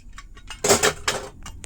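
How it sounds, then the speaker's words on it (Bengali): Metal clanks and clinks as the lid of a pressure cooker is opened after cooking red potato rasgulla, giving a couple of loud close bursts among lighter knocks. "এটা ঠান্ডা হয়ে গেছে, এখন ঢাকনাটা খুলে দেখাই আপনারা।"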